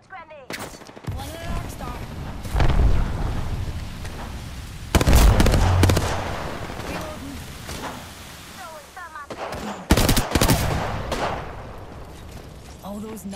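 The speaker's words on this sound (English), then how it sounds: "Flinging an arc star." An arc star grenade goes off in Apex Legends amid rapid gunfire, with several loud electric bursts and blasts scattered through a busy firefight while players talk over the action.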